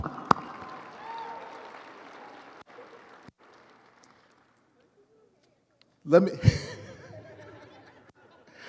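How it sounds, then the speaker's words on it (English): Audience at an awards show gives a steady, moderate round of clapping with scattered chuckles that fades out, then a short pause before a burst of crowd noise and a voice speaking. "Give yourselves a round of applause"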